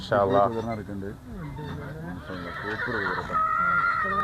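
A horse at the Pushkar fair in India whinnies loudly and close by with a wavering, high neigh, followed by lower snorts and shuffling noises.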